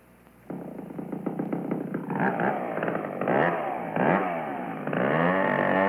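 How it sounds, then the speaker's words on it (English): A chainsaw runs in a radio advertisement, starting abruptly and then revving and rising and falling in pitch, loud and close, with no talk over it. "A logger can't cut down a tall pine tree with a busted chainsaw"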